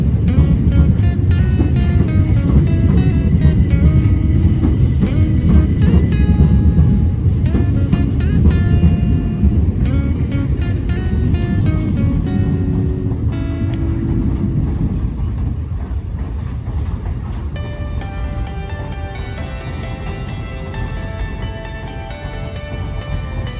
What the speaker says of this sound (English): Arriving now is a terminating pair of 375s.